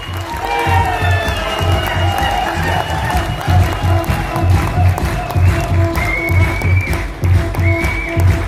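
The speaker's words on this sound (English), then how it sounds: "let's welcome our next leader here on stage with a huge round of applause, Praveen." Sustained clapping and crowd noise from a large audience welcoming a speaker on stage, steady and continuous, with some voices and rhythmic thumps mixed in.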